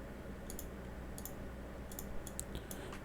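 Quiet, scattered clicks from a computer keyboard and mouse during typing, small sharp taps in irregular bursts over a low room hiss.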